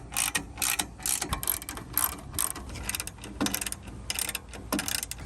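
A hand ratchet tightens 11 mm nylock nuts on a roof rack mount for a Tacoma, giving quick bursts of sharp clicking strokes with short pauses between, close and clear.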